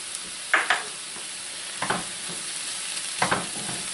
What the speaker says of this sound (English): My celery and onions are nice and sauteed here